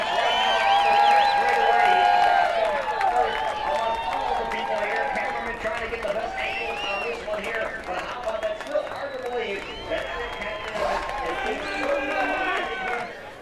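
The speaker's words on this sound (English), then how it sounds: "Listen to the crowd." A race crowd at the 2017 Iowa Corn 300 IndyCar event cheers and applauds after the finish, a loud sustained roar under nearly continuous commentator talk.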